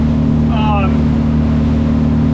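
A Conch 27 boat runs on a Suzuki DF300 outboard at about 4,500 RPM and roughly 29.5 mph, a loud, steady engine and hull drone with wind, continuous throughout.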